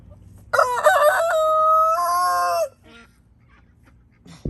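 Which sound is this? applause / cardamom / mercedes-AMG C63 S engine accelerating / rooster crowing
rooster crowing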